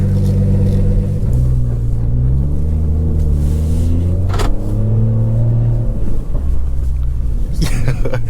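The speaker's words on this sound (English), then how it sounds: "That's just a cold start, and that is a full-on cold start because that thing was parked up all night" A BMW 340i with the B58 engine and a very loud aftermarket exhaust idles on a cold start on a freezing morning, giving a deep, steady droning rumble with slight pitch shifts and a brief blip near the end, heard from inside the car.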